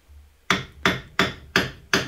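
Steel hammer blows driving a cold chisel into the ball joint on the hub of a 2005 Vauxhall Corsa C during suspension work: five sharp, loud metallic strikes at an even pace, each with a short ringing decay, with a low hum between blows.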